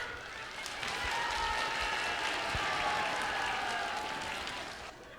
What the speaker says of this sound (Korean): 박수 한번 쳐봐.